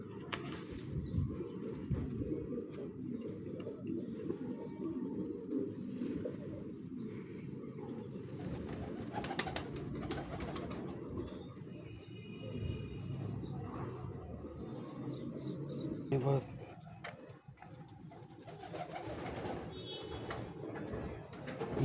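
A steady wash of pigeon cooing comes from a loft of high-flying pigeons, continuous and fairly close, with a faint passing aircraft rumble underneath and no talk.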